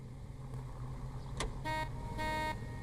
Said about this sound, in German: Da hupt mich die Polizei an, ja.